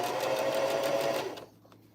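A sewing machine stitches a bucket hat in a steady, loud whir for over a second, then stops, leaving quiet room tone.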